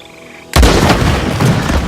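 A single loud gunshot in Red Dead Redemption 2 cracks out of near silence and rolls into a long, heavy booming echo that fills the rest of the moment.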